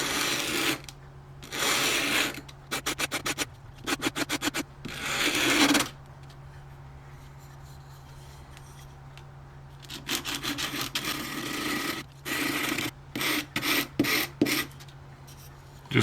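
Sandpaper of 120 grit scrubbing a wooden model ship part in a workshop, in rhythmic bursts of quick back-and-forth rasping strokes separated by short pauses, close and fairly loud throughout.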